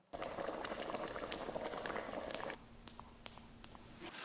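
Liquid boiling vigorously with a dense bubbling hiss for about two and a half seconds, then dropping to a quieter simmer with scattered pops and a faint low hum.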